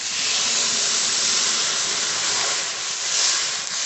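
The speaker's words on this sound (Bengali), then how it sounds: "কাঁচকলাটা একটু ভাজা ভাজা করে নিয়েছি এবার জল দিয়ে দেবো জল" Water hits a hot pan of fried green banana and sends up a loud, steady hiss of sizzling steam that holds at an even level for the whole stretch, with no voices.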